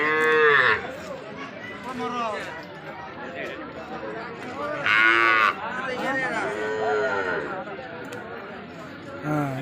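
Several cattle moo loudly in long, drawn-out calls at a cattle market, with people chattering and talking in the background.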